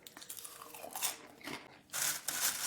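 Crunchy popcorn with a sweet seasoning being chewed close up, a run of dry crisp bites and crunches that grows louder and denser toward the end, with no talking.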